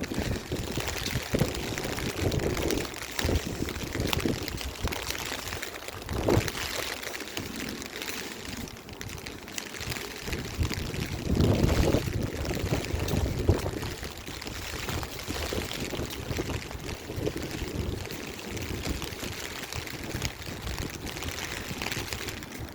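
Strong wind and icy cold rain near open water, a steady rushing, pouring wash of wind noise and rain that swells in places and runs continuously without speech.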